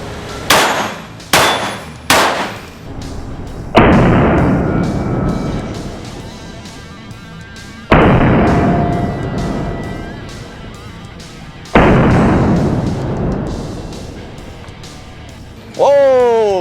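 A KelTec P17 .22LR pistol fires in a quick string of sharp cracks, then a few spaced shots that ring out with long metallic clangs from steel targets, and people talk in the background.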